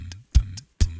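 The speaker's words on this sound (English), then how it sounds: "this is the beatbox loop here" A short beatbox loop repeats deep kick-like thumps, a crisp snare-like hit and light hi-hat ticks in a tight, close, dry rhythm. No talking.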